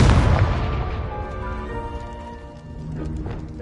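A Confringo fire spell from the Hogwarts Legacy video game goes off in a loud, booming blast that hits at once and then rumbles and fades over a few seconds, with no voices.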